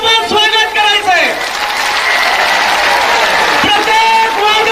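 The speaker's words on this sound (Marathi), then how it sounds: "प्रचंड टाळ्या वाजून आपण स्वागत करायचंय" Large crowd at a Maratha rally at Narayan Gad applauding to welcome Manoj Jarange Patil, a dense, sustained wash of clapping that swells loud and steady, with an announcer's voice briefly heard at the start and near the end.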